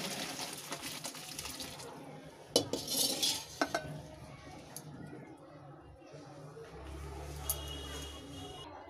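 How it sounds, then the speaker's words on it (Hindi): Boiled chowmein noodles are tipped into a metal strainer in a home kitchen, with water splashing and pouring out amid clinks of utensils and pot, while a person talks over it. "देखिए हम इसे छन्ने में छान लेते हैं।"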